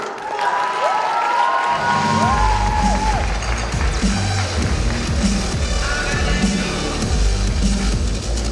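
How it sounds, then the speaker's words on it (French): A crowd at a cosplay contest applauds and cheers loudly for a cosplay group on stage, a steady dense roar of clapping, whoops and shouts that swells in after a brief musical sting and continues throughout. "On les applaudit bien fort"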